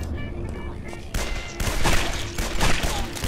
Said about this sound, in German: Schießt er in den Kopf rein.